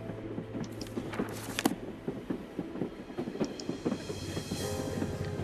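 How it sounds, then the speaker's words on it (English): Ghost train from the video game House of 1000 Doors running steadily, with a rhythmic clickety-clack of wheels over rails, metallic creaks and a low rumble throughout, moderately loud and with no talking. "I must help her by stopping this train."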